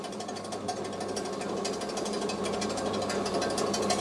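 A household 220 V feed pellet mill with mixer rattles and grinds steadily as its slide gate is opened, a dense, continuous mechanical clatter with no voices.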